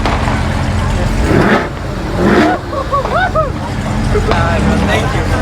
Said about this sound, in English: Can you rev your car?